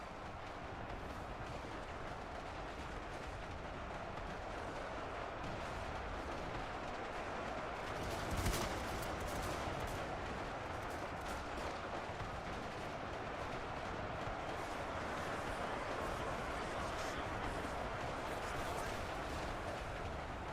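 Distant machine gun fire rattles in Ultimate Epic Battle Simulator 2, buried in a dense, continuous roar of large-scale battle noise that runs steadily for the whole stretch with no voices.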